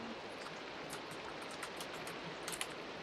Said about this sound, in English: Oh, it's raining. That's what that noise is.